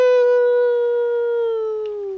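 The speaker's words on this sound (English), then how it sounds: "It's the ultimate wolf's howl." A wolf's howl from the video game Infinity Nikki: a single sustained, rich-toned cry holding a steady pitch that sinks slowly, loud and clear with no talk over it.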